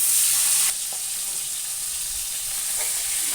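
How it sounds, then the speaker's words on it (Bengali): Fish frying one after another in hot oil in a home kitchen pan, a steady bright hiss and sizzle that is loud at first, then settles slightly quieter, with a couple of faint clicks and no talking. "তেলের মধ্যে এই দুটো মাছও ভেজে নেব।"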